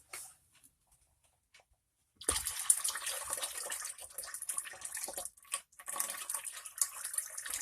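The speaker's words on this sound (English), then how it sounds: "Make sure you pour your water first so you don't splash out the acid." Water is poured into a plastic or glass container for mixing with muriatic acid in a home copper electroplating setup, a steady splashing pour that starts after a near-silent pause and runs on softly.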